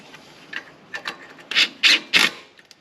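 A bolt dragging as it threads into a Jeep 4.0 part, a few short rasping turns that grow louder and closer, the last three strokes the strongest, with no voices.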